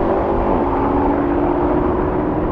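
A BMW M5 accelerating hard in a drag race, a steady loud engine roar with a droning tone that holds without a break, close and unaccompanied by talk.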